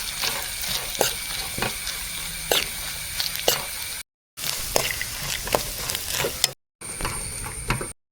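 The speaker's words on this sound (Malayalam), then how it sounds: "ചിരകി വെച്ച തേങ്ങ കൂടി ഇതിലേക്ക് ഇട്ടിട്ട് നല്ലപോലെ ഒന്ന് ഇളക്കുക." Grated coconut frying in a pan while being stirred, a steady sizzle broken by regular scraping clinks of the spoon, with a couple of brief gaps of silence.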